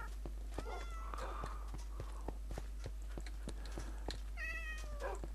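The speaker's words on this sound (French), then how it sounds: "mais punaise, mais il y en a des chats." Cats meowing in Minecraft, several faint, thin mewing calls spread over a few seconds with soft footstep-like ticks in between and no talk.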